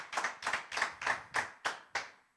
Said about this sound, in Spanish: Le das un aplauso fuerte al Señor